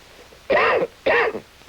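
Two harsh coughs from a cold, close and distinct, separated by a brief pause, with no talking.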